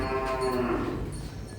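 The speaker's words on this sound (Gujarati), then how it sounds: "અહીંયા સુધી તો આવી જતી બધી ગાયો" Cow at a cow shelter in Amreli giving a single long, low moo, close and clear against a quiet background.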